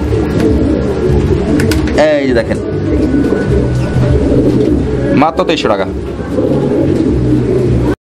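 A pair of pigeons coo and shuffle about close by while someone talks over them, with a couple of brief higher chirps or wing sounds in between.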